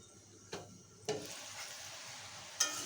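Spinach cooks down in a covered pan for a bata fish curry with a soft, low frying hiss, punctuated by a few distinct clicks and knocks as the lid and pan are handled. No one speaks.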